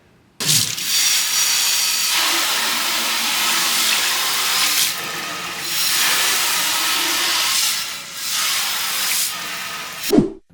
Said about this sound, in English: I went ahead and sprayed some more cleaner anyway and rinsed it for a second time